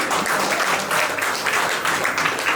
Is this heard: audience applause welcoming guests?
yes